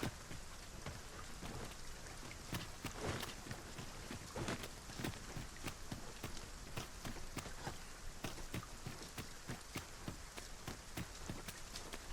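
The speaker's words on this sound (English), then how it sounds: "Tis raining." Rain falls steadily in the video game Dragon's Dogma 2 with a dense patter, sharp drops and clicks scattered irregularly through it for a long stretch, fairly faint overall.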